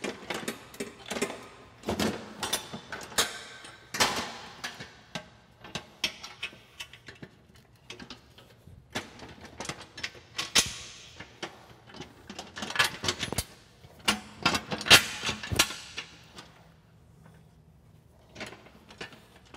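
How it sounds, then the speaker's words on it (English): Four bolts installed on a UTV snow plow blade: a steady run of close metallic clicks, ticks and ratcheting taps with brief pauses, no talking. "Now we're going to rotate the blade forward and install these 4 bolts."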